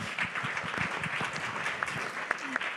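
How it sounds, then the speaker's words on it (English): An audience at a leaders' summit session applauds the speakers, a steady wash of many hands clapping at moderate distance for a few seconds. "Can I ask all the participants to express the respect and gratitude with a round of applause to the speakers."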